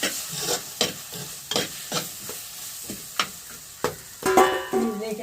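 Tomato and green chilli fry in a pan while being stirred, with a series of scraping, clattering spatula strokes every half second or so over a faint sizzle, close and moderately loud, no talking.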